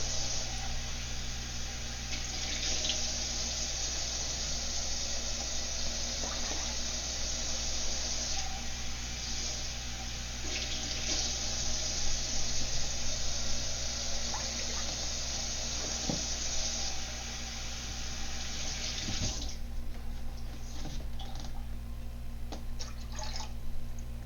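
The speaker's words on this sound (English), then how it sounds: "in the pot we're going to put 4 cups of water." Water is poured into a cooking pot for vegetarian tomato and egg swirl soup, a steady splashing rush over constant background hum that trails off near the end.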